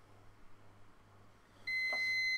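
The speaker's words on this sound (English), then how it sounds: "so sorry for the loud beep." A loud electronic beep from an exercise device being reset, one steady high-pitched tone lasting under a second that starts abruptly after quiet room hum, with no talking.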